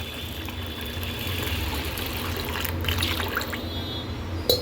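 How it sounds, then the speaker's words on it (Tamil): Water pours steadily into a bowl of freshly washed lentils set to soak, a soft continuous trickle with a faint splash and a small clink near the end, close and quiet. "இப்போ இதை தண்ணி ஊற்றி ஊற வச்சிடலாம்."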